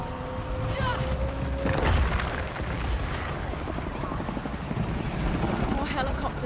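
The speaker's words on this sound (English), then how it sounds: "More helicopters." Helicopters in the Shadow of the Tomb Raider video game, a steady rotor drone underlying a busy game mix of rumbling effects and radio chatter, with dense background noise throughout.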